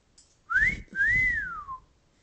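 An African grey parrot gives two clear whistles close by, a short rising note and then a longer one that rises and falls.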